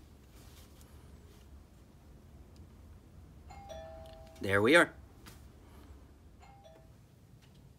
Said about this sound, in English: hit the doorbell.